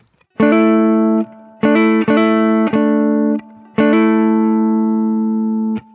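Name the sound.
electric guitar double stop with hammer-on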